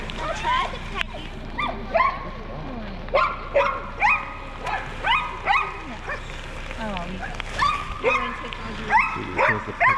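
Sled dogs at a dog sledding camp in Skagway bark and yip in repeated excited bursts close by, mixed with whines, with a few people speaking quietly underneath.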